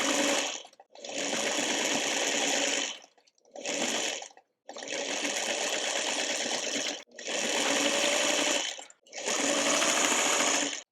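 Sewing machine stitching a row of a Spinning Star quilt block, running in six bursts of steady whirring separated by short pauses, close and loud with no talking.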